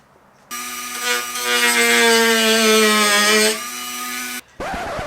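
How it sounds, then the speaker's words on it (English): A Dremel rotary tool cuts plastic grille trim on a Veloster Turbo, a high-pitched steady whine that swells louder as it bites for about four seconds, then stops abruptly before a short burst of rustling. "I have my Dremel here, so let's start cutting."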